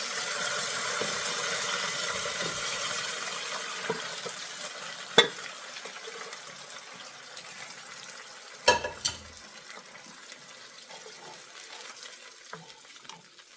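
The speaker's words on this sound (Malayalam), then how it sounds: "ഇനി ഇതിലേക്ക് നമ്മൾ നേരത്തെ വേവിച്ച് വെച്ച ഓർക്കാപ്പുളിയും ശർക്കര വെള്ളവും ഒഴിച്ചു കൊടുക്കണം." Cooked bilimbi and jaggery water poured into a sizzling frying pan, a steady fry hiss with two sharp splashy bursts as the liquid hits the hot pan.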